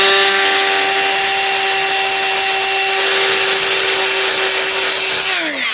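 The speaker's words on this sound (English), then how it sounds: "I'm being super careful not to grind where it's low" A high-speed rotary grinder ports a 350 Vortec cylinder head casting, working out a ridge, with a loud, steady, close whine and harsh grinding that winds down at the end.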